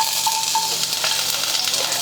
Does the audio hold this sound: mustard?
yes